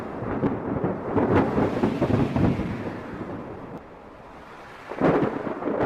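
Heavy rain falls with rolling thunder rumbling in a few deep, booming bursts. There is a brief lull before another crack of thunder, and no voices.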